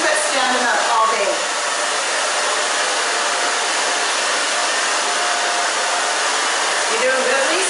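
A hair dryer blows continuously at close range while styling a short stacked bob with a root lifter, a loud, steady broadband rush that barely changes in level from start to end.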